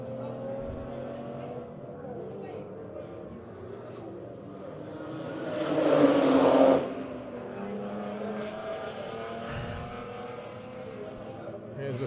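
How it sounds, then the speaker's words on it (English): BMW race cars in a Bridgestone BMW Race Series race at Red Star Raceway, with engine noise swelling as they pass around the middle, heard under steady commentary. "there's 3 cars fighting for that position on track"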